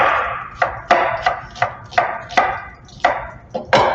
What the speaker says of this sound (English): we're going to just slice our sweet onion